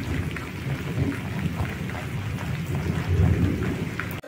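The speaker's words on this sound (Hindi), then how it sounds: "आज हमारे यहाँ बहुत तेज बारिश हो रही है" Heavy rain pours steadily during a storm, dense and continuous, while deep thunder rumbles roll beneath it and swell louder near the end.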